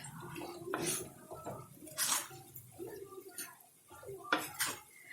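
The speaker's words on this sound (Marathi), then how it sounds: "यामध्ये आपण शिमला मिरची जी कापलेली होती ती टाकून घेणार आहोत आणि त्याला मिक्स करणार आहोत आपण।" Chopped capsicum tipped into a pan with gram flour and stirred in, giving several clattering scrapes and metallic knocks of a spoon against the pan at uneven intervals, fairly close and moderately loud.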